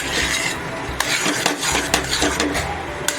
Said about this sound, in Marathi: त्यावेळी हे बघा असं व्यवस्थित ढवळत राहायचं आहे आपल्याला।